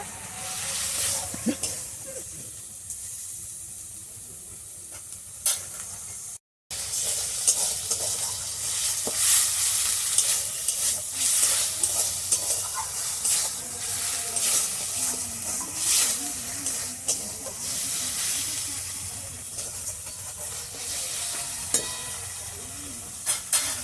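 Onions fry in a pan for a Bengali milk-and-snakehead-fish dish, with a steady hiss and sizzle broken by repeated scraping stirs of a spoon against the pan, close up and fairly loud.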